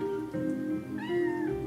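A cat meows in the Chrono Cross video game, a pair of clear, drawn-out mews standing alone over quiet game background audio.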